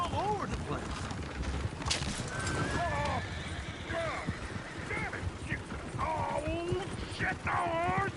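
Horses in Red Dead Redemption 2 whinny and neigh repeatedly over steady hoof clip-clops, with excited talk in the background.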